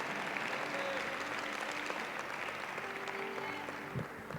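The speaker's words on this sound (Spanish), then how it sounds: "El aplauso es para el Señor." Audience applause at a Spanish-language church sermon, a steady wash of clapping that fills the whole stretch and thins slightly toward the end, with faint murmuring voices underneath.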